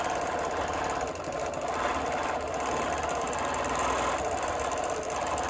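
A sewing machine stitching a quilt block runs steadily with a fast, even mechanical chatter for several seconds, close and moderately loud, with no talking.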